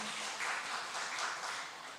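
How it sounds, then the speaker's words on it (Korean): A church congregation at a Friday evening worship service applauds to welcome a newcomer, a steady wash of many hands clapping at moderate distance, sustained for two seconds and tapering slightly at the end. "여러분 큰 박수로 좀 환영해 주시면 감사하겠습니다."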